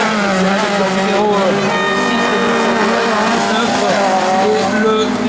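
A Fiat race car at an autocross event at St Germain d'Anxure, its engine droning steadily and loudly throughout with revving harmonics, under a commentator talking over a public address.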